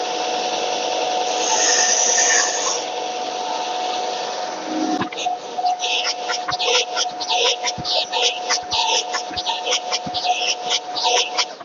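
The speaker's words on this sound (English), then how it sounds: "I'm just going to quickly put them over the belt sander to get rid of them." A belt sander grinds small leftover wooden tabs off a stair-gate piece: a steady hum and whir for about five seconds, then a run of rapid, rough, scratchy bursts as the wood is pressed to the belt, loud and close.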